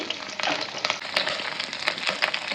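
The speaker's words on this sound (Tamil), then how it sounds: "இது நல்லா பொரிஞ்சு வருது." Mustard seeds, fenugreek and garlic fry in hot oil in a pan, a close, steady sizzle dotted with quick popping crackles.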